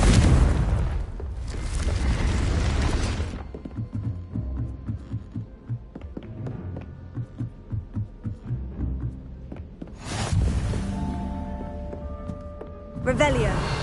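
Confringo blasting spell from Hogwarts Legacy going off as two loud, broad explosive bursts, one at the start and another near the end, with quieter rhythmic thumping and game sounds in between.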